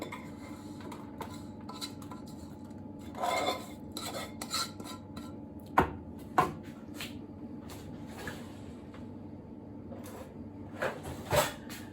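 A spatula scrapes cake mixture of butter and golden syrup from a bowl into a tray, giving soft rasping strokes broken by a few sharp clinks of utensil against bowl, close and fairly quiet.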